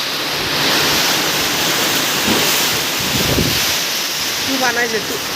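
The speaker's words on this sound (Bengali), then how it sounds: "কি বাতাসের বাতাস।" Strong storm wind roars steadily and loudly during a rainstorm, buffeting the microphone with a dense rushing hiss; faint voices surface briefly underneath.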